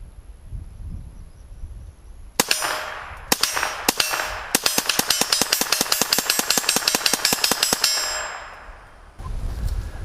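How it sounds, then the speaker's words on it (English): A GSG MP40 firing .22 Long Rifle rounds at an AR500 half-inch steel plate, a string of rapid shots answered by bright metallic clangs ringing from the target, loud with a ragged rhythm across several seconds. "we're going to fire some 22 out of my GSG MP40."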